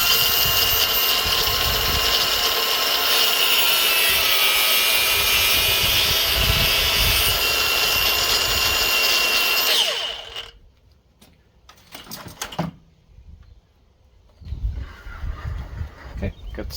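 A power tool cuts through a braided AN oil cooler hose for a Mazda RX-8, a loud continuous whine that stops abruptly, followed by quieter handling clatter and brief knocks.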